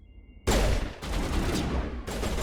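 Heavy gunfire erupts abruptly in Mass Effect, with sustained loud bursts of rapid shots, separate volleys starting again at two points, and a quiet pause just before the shooting begins.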